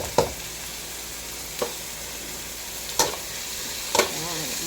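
Tomatoes cooking in a pan give a steady close sizzle, punctuated by four sharp stirring clanks spaced about a second apart, loud and without talk.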